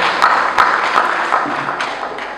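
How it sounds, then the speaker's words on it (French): An audience at a student conference applauds to welcome the moderator: continuous, fairly close clapping with a few louder slaps, and no one speaking. "Sous vos applaudissements, veuillez accueillir notre modérateur"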